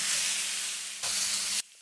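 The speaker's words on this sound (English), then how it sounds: "Now saute the shrimp until it's pink" Shrimp sizzling and frying in a hot pan for an adobo with mushrooms, a steady broadband hiss that brightens briefly before cutting off, close and fairly quiet with no talk.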